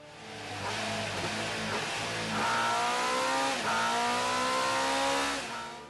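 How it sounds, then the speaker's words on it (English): MV Agusta motorcycle being run up on a rolling chassis test stand in the factory, its engine revving in rising and falling sweeps, loud and close, with a steady roar throughout. "Each completed bike is then put through its paces in what they call the rolling chassis room."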